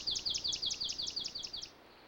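A swamp sparrow delivers a steady trilled song of roughly eleven evenly spaced, identical notes, loud and close, ending cleanly into quiet.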